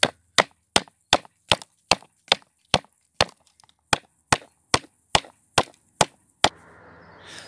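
Slate roofing tiles are chipped with sharp, evenly spaced strikes, about fifteen loud close cracks in a steady rhythm while small fragments break off, ending in a brief rustle.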